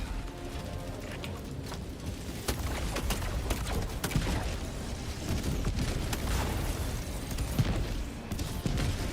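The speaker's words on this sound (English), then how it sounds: "My explosions be hitting different." Dense, continuous rumbling explosions and blasts from Helldivers 2 gameplay, loud and layered, with sharp bursts overlapping throughout.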